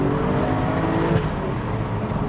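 A BMW 1M Coupe's N54 engine pulls hard in third gear, its exhaust droning steadily and fairly loud from inside the cabin as boost builds, without talking.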